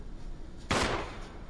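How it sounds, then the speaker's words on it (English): A single gunshot in the video game Resident Evil, one sharp burst with a short decaying tail that stands out against a quiet, tense background hum. "Sounded like a gunshot."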